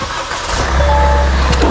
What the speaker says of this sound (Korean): 시동을 걸고 엔진 룸을 보여드릴게요.